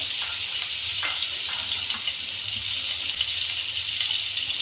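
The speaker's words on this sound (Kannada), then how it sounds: "ಇವಾಗ ಒಂದು ಪ್ಯಾನ್ ತಗೊಂಡು ಸ್ವಲ್ಪ ಬಟರ್, ಸ್ವಲ್ಪ ಆಲಿವ್ ಆಯಿಲ್" Butter and olive oil heat in a pan, giving a steady, close hiss of frying with faint scraping and clinks now and then, no voices.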